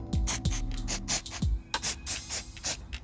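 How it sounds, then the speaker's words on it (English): Short hissing bursts of white spray grease aimed at a pulley bearing on a Honda S2000, several quick sprays close up with brief gaps and faint handling noises between them. "a little bit of spray grease. This is white grease, pretty good."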